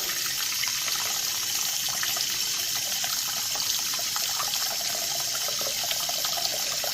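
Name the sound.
sink filling with hot water from tap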